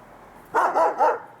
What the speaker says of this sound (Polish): No i ten pies tu się drze i drze, Nie może przestać.